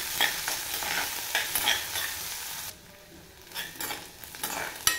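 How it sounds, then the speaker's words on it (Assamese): Green chillies and chopped onion frying in a pan, stirred steadily, with close, continuous sizzling and scraping that dips briefly quieter midway before picking back up. "কেঁচা জলকীয়াখিনি দি দিব আৰু এতিয়া অলপ ভাজি ল'ব লাগিব"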